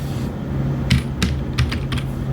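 A handful of keyboard keystrokes click at an uneven pace, close by, over a steady low hum.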